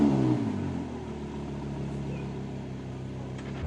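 Yamaha XSR900 motorcycle engine on a demo ride, a steady mid-pitched drone that starts slightly louder and settles into an even, continuous hum with no talk.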